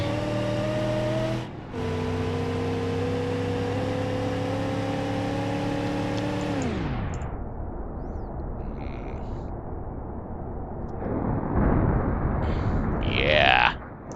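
A car in BeamNG Drive, the Elite Custom version, drives at a concrete barrier: a steady droning engine tone holds, then slides downward and fades as the car hits, followed by a rough noisy rush and a brief whine near the end.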